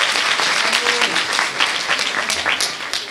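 An indoor concert audience applauds ballerinas after a Disney music performance, a dense, steady wash of clapping from many hands that stays loud throughout.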